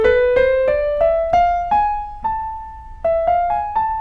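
A single plucked instrument steps up and down a harmonic minor scale, each note struck clearly and left to ring, played alone.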